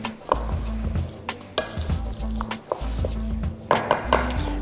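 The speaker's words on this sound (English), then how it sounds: "Surround the rice, and we give this a good stir." Claypot chicken rice with sauce being stirred in a rice cooker, a spoon scraping and clinking against the pot in irregular strokes, with soft sizzling underneath and no voices.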